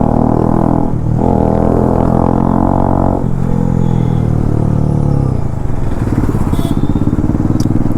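A Bajaj Dominar 250 motorcycle runs with no exhaust silencer, its loud, raw engine note droning and pulsing continuously close by, shifting pitch as it revs, with no talk.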